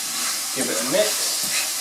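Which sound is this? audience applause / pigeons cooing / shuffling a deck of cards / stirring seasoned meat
stirring seasoned meat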